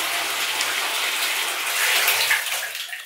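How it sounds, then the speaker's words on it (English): Steady rushing water pours continuously from an indoor pond waterfall, a broad hissing splash, fairly close and loud with no talking. "I feel like it's too loud to talk in here with the waterfall."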